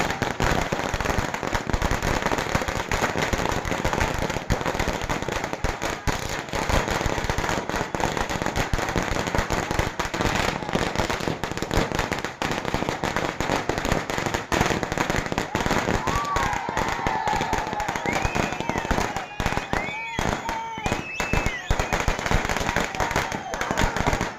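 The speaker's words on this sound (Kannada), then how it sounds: "ಅಭಿಮಾನಿಗಳು ಪಟಾಕಿ ಸಿಡಿಸಿ" Firecrackers burst in a dense, continuous crackling barrage as fans celebrate a Congress youth leader's birthday in Nagamangala taluk. The loud popping runs for the whole stretch, with crowd noise mixed in.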